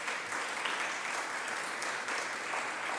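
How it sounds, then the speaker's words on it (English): Applause from an audience at a mayor's press conference honoring 2018 graduates of a restorative justice guild, steady sustained clapping throughout with no gaps. "Round of applause, please, everybody."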